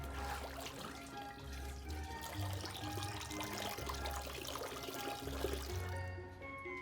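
A ball is lowered into a tub of water, giving a soft splash and slosh under steady background music.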